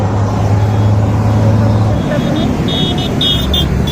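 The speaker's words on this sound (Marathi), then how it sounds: "हे बघा किती ट्रॅफिक आहे. गाड्याची जाम बघा." Heavy road traffic jam amid large crowds at Bhima Koregaon on a commemoration day: a steady loud engine rumble with a low idling drone, then a few short high horn toots near the end, under someone talking.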